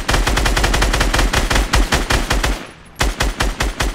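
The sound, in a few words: gunfire shooting brick fort, Fortnite video game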